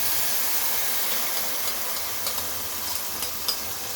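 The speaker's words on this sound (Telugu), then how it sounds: "అల్లం పేస్ట్ వేగిన తర్వాత మనం గ్రైండ్ చేసుకొని పెట్టుకున్న పేస్ట్ వేసుకోవాలి" Ginger paste and ground masala paste frying in hot oil for a fish curry, a soft steady sizzle and hiss with faint stirring ticks near the end, fairly quiet and without talk.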